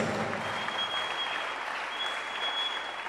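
A church congregation applauds with steady, dense clapping that fills the room evenly for a few seconds, with no break and no voices standing out.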